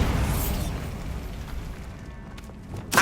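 A Bombarda explosion spell in the video game Hogwarts Legacy, a heavy low boom that rumbles and decays over a few seconds, ending with a sharp new burst.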